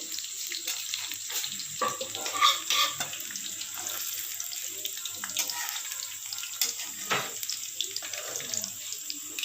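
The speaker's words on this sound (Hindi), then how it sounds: "अब इनको अच्छी तरह फ्राई कर लेंगे।" Arbi leaf rolls frying in hot oil, a steady bubbling sizzle with occasional sharper crackles and splashes, close and fairly constant throughout.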